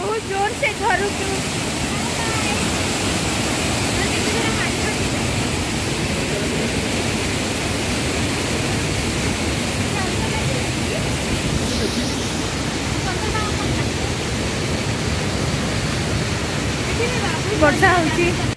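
Sanaghagara waterfall in Keonjhar roars with a loud, steady, unbroken wash of rushing water that fills the whole scene from start to end.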